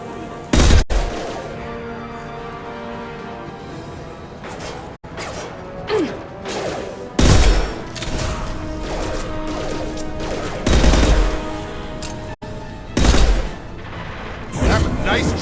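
Weapons fire in the Mass Effect video game: loud bursts of shots and crashing impacts recur every few seconds over a constant background of game noise.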